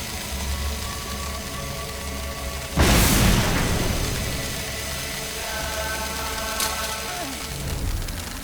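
A bomb goes off with a sharp, loud boom in the video game Lara Croft and the Temple of Osiris. The blast decays over a couple of seconds over steady game ambience, and a second, smaller pop follows later.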